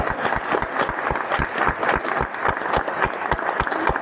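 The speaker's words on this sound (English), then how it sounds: "And another round of applause right now." A theatre audience at a Harry Potter and the Cursed Child performance breaks into a dense, sustained round of applause, many hands clapping rapidly and evenly at close range without pause.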